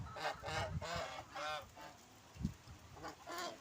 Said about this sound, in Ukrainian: Ось оці гуси